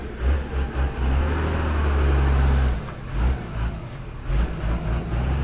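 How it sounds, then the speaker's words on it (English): Trucks and cars in a heavy traffic jam on Majai Road rumble and rev up close as vehicles overtake, with deep engine drones and passing swells. "Look at the overtaking of these trucks."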